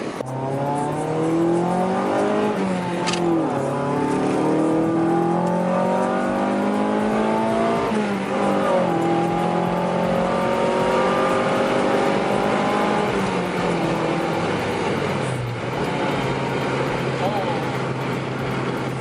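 A CD5 Honda Accord engine revs hard toward 7,000 RPM, its pitch climbing repeatedly in sweeping rising harmonics with brief dips at shifts, loud and continuous for the whole clip.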